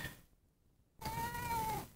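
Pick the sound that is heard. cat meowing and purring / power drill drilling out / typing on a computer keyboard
cat meowing and purring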